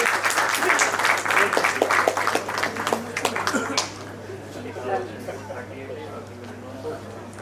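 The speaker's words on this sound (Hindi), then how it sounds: "बहुत जोरदार तालियां बजा रहे सब लोग" Audience applause at a Saifi Day book launch gathering, broad clapping in the first few seconds that fades into a murmuring hall with a low steady hum and some background talk.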